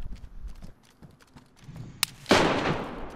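A single sharp gunshot fired in the video game DayZ during a base raid, loud and close, followed by a burst of broadband noise and echo, after quieter footstep-like clatter.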